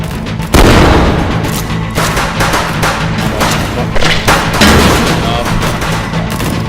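Heavy video game gunfire fills the whole stretch, a dense run of loud booming shots and thuds with almost no gaps between them.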